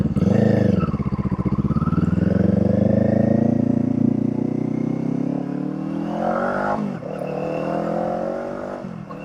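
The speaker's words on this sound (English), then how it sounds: "I still like this Kaufman exhaust. It is such a good exhaust." A Kawasaki Eliminator motorcycle with a Kaufman exhaust pulls away and accelerates on a freeway ride, its engine note climbing through the gears, loud and close, with wind rush behind it.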